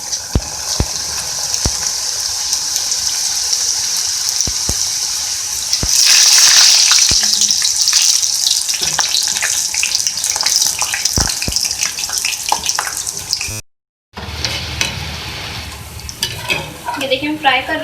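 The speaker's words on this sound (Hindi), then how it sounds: "ये देखिए हम फ्राई कर रहे हैं इनको।" Namak paray dough pieces frying in hot oil, a steady bubbling sizzle with occasional clicks and stirring knocks, rising briefly louder, then a short gap before the frying resumes.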